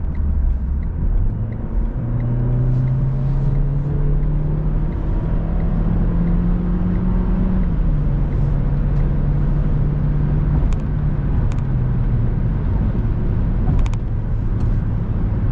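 A 2013 Renault Captur with the 1.2 TCe 120 hp engine and EDC six-speed automatic accelerating in drive, a loud steady engine drone rising in pitch and dipping briefly as it shifts gears.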